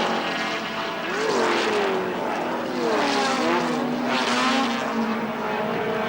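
Group C touring cars race through a corner at the 1980 Surfers Paradise 300, their engines rising and falling in pitch in three overlapping waves as they pass close by.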